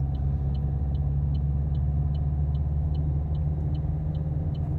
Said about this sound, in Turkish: At ikinci vitese şimdi motorun sesi yükseldi aynen